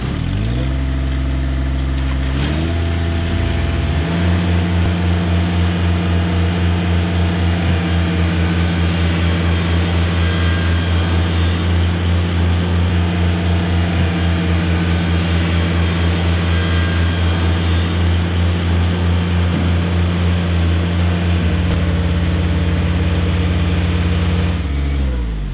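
Two small diesel engines, a Kubota BX and a John Deere 1-Series compact tractor pushing against each other in four-wheel drive, drone and strain together with a steady low hum, revving up near the start and easing off at the end.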